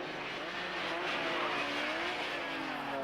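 Group N production race cars roar past under hard load, engines straining and tyres squealing through a corner, a continuous blend of revving and skidding heard from trackside at moderate distance.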